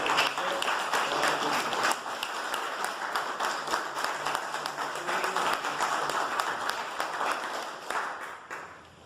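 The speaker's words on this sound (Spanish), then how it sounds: "lo recibimos con un fuerte aplauso a Ernesto Zambrini" An audience applauds continuously at a library talk, dense clapping holding steady for several seconds before thinning out and fading at the end.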